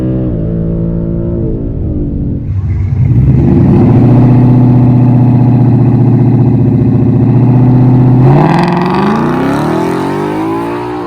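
A cammed 2018 Mustang with the Coyote V8 roars loud and close at a dragstrip, its engine note climbing steadily through first gear before dropping and surging again at the shift into second.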